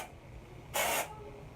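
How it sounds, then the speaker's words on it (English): A single short burst of Suave dry shampoo sprays onto hair roots, a close, bright hiss lasting about a third of a second in a quiet room. "And I simply just kind of lift the hair. And I spray the root."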